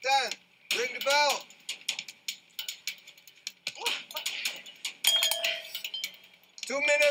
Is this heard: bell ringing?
yes